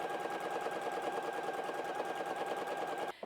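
A sewing machine runs steadily, stitching a 1/4-inch seam around a fabric rectangle for a gift bag, a fast, even mechanical rattle held close and loud throughout before stopping abruptly at the end.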